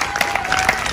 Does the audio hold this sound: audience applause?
yes